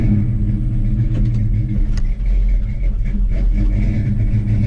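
A Mopar 360 small block V8 in a Little Red Express truck rumbles steadily while driving, a loud continuous low engine drone with slight swells, carburetor in need of work, no talk.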